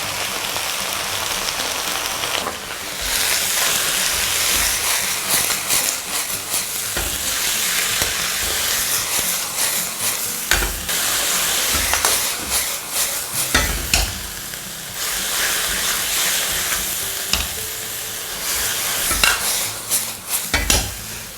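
Vegetables stir-fried in a wok over low heat while salt, sugar, light soy sauce and oyster sauce go in, giving a loud continuous sizzle with repeated scraping stirs of the spatula, close up and without talk.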